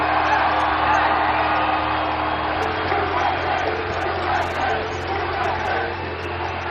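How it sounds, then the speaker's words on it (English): A hometown crowd at an esports event cheers and whoops in a large arena, a dense, roaring wash of voices that swells early and eases slightly, with a commentator talking over it. "I think we know who the hometown crowd is cheering for, Zoe."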